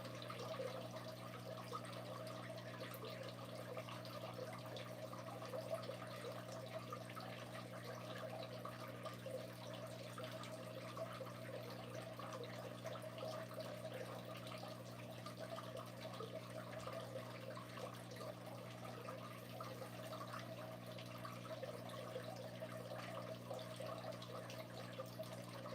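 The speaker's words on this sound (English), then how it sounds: "Do you hear the water in the background?" Aquarium water runs constantly in the background, a smooth unbroken trickle and splash over a low electrical hum that holds level for the whole stretch.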